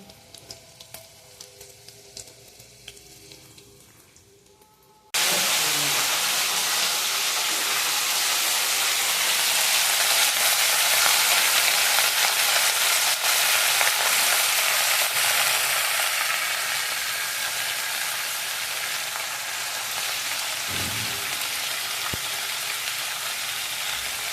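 Cauliflower curry sizzles loudly in a pan after being tipped in, a sudden burst of frying that stays dense and steady, with occasional scraping as it is stirred, close by.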